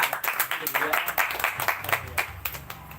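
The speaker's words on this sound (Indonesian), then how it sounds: "Tepuk tangan buat Kometa." Members of an archery community clapping together at a gathering, a quick irregular patter of several hands, fairly close and lively, with voices mixed in.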